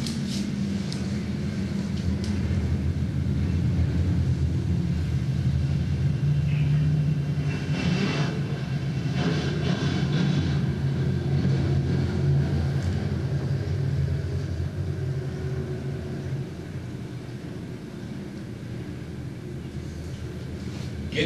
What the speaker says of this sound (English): Green flag racing here in your B modifieds.